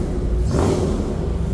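A 1963 Ford F100 4x4 pickup with Sniper EFI fuel injection and side-exit exhaust idles with a steady, close, loud low rumble that holds even for under two seconds.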